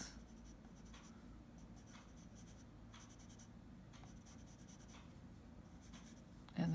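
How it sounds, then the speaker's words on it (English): A colored pencil scratches softly across paper while filling in a downy woodpecker's bill, light repeated strokes in an even rhythm, faint and close, with a brief bump at the very end. "Not too much pressure on your colored pencil, but just enough to sort of fill in some of the gaps."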